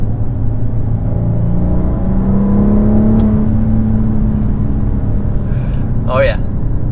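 A 2017 Maserati Quattroporte accelerating hard and holding one gear, its engine a steady rising drone heard from inside the car, loud and continuous.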